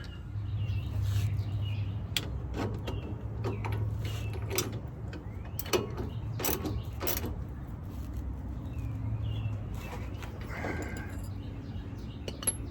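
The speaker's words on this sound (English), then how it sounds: "we're going to tighten this down, and I'll say it again, until the bushing starts to deform" A wrench tightens a bolt on a Spohn spherical front suspension bushing on a 2007-2013 Chevrolet Silverado LT. The result is a series of sharp metallic clicks and clanks, some in quick bursts, over a low steady background hum.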